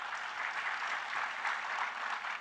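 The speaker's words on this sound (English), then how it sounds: "Let's give a big hand." A school Founders' Day audience breaks into brisk, dense clapping, steady and moderately loud for the whole short stretch with no talking.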